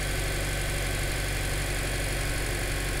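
A Honda Accord Euro R 2.0 engine idles steadily with a low, even hum and a faint rattling vibration, close by and unchanging throughout.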